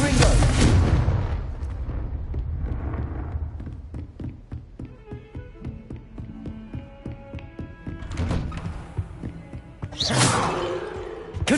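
A Confringo blasting spell goes off in Hogwarts Legacy: a loud burst at the start, then rapid ticking impacts and a sustained tone, with two more bright blasts near the end, over a low game rumble.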